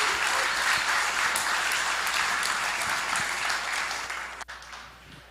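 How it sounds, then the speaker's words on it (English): Sustained applause from a conference audience in a hall, dense and steady clapping for about four seconds before thinning and fading out near the end. "another round of applause, please."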